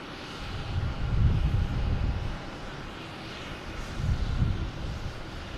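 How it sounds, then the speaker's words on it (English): SAS Scandinavian Airlines jet taking off from Boston Logan, a distant engine roar that swells, eases, then swells again, with no voices. "You got SAS, Scandinavian Airlines, taking off, heading to Copenhagen."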